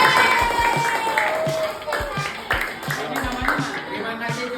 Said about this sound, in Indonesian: Kita beri tepuk tangan untuk Pak Ahmad.